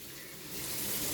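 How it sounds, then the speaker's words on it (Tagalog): Water being poured into a pot while cooking pancit canton, a steady gushing flow that grows louder partway through and continues to the end. "Ulitin po muna natin paglalagay ng tubig again."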